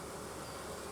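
Honey bees buzz at an opened hive box during a hive split, a dense, steady hum of many insects close by.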